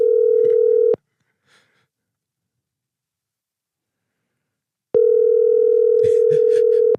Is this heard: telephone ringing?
yes